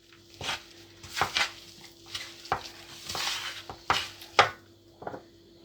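A potato köfte mixture seasoned with thyme and salt is kneaded by hand, giving close, irregular wet squelches and soft slaps, with sharp sticky pops between quieter pauses and no voices.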